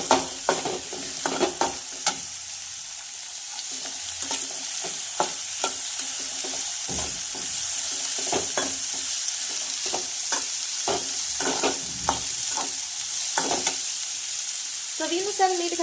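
Green chili, onion, peanuts and turmeric powder fry in a pan for yogurt upma, a steady close sizzle punctuated by repeated clicks and scrapes of a spoon stirring, with no talking.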